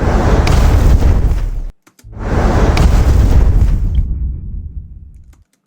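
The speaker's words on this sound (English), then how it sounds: "one explosion with a lot of reverb because we want to make it sound really big" Designed sound effect of a big explosion with heavy reverb, two loud deep booming blasts in a row, the second tailing off into a long echoing decay.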